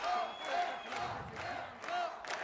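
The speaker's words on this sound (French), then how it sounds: "Et mérite cette acclamation du public" Distant crowd cheering and shouting for boxer Bertrand Fleuret during a world championship bout, rising and falling in waves with a few whistles.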